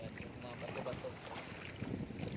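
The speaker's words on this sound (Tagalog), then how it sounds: "Umaalon na naman." Waves washing near a sandy, rocky beach, heard from a boat as a steady, fairly faint rush of water with wind buffeting the microphone.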